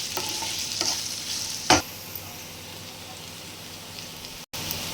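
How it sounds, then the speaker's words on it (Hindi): Finely chopped onion frying in a pan, a quiet steady sizzle with a few utensil scrapes and one sharp clatter, no talking. "इसी में हम बारीक कटी हुई प्याज डालेंगे"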